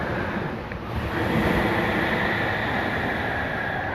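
Ocean waves wash and roll onto the shore in Maui, Hawaii, a steady broad surf roar with a gentle swell in the middle and some wind noise, with no one speaking.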